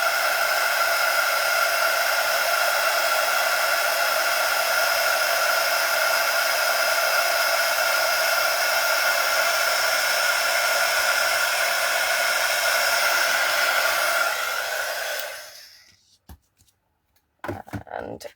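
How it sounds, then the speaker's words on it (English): Heat gun blowing steadily at close range while warming gold rainbow mirror card for gift bags, a continuous loud airy roar that cuts off near the end, followed by a few faint knocks. "Always preheat your heat gun,"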